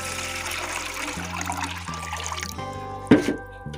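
Boiled water is poured out in a kitchen, a continuous splashing, gurgling stream that tapers off, followed by a sharp clatter near the end.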